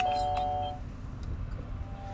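A Nest Hello video doorbell chime rings out in two clear tonal notes at the start, fading after about a second into low background rumble.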